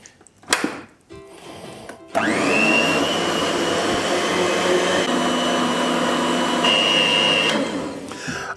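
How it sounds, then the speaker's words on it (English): An electric hand mixer whirs steadily and loudly while blending chocolate cake batter with eggs in a bowl, starting after a few clicks and handling noises and running continuously at a constant high-pitched drone. "I'm going to use a hand mixer to blend it for 2 minutes"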